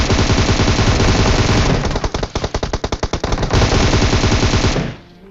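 Automatic weapon fire from the mobile shooter game PUBG Mobile rattles in a long, loud, rapid burst of shots, with distinct fast repeating cracks in the middle before cutting off abruptly.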